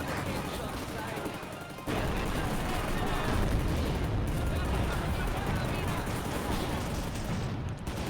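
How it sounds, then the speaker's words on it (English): Rapid machine gun fire in a video game, a dense continuous roar of shots that jumps louder after about two seconds and stays loud to the end, with a voice talking underneath. "I've brought my machine guns again."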